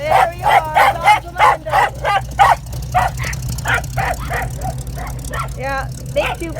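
Several dogs bark and yip in rapid bursts with whimpering in between, close by and loud, over a steady low engine rumble from a 1948 Chevy on a test run.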